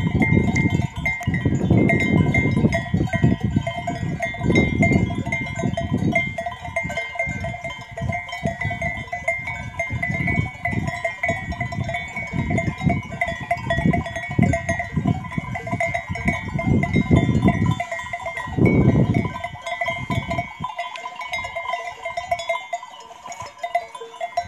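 Sheep bleat near a ram in a rural Turkish livestock setting, scattered calls over a steady bed of animal movement and faint clanking, with no talk.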